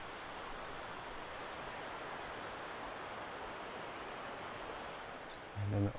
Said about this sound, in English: I can hear running water. This is the water of Leith, which goes throughout Edinburgh.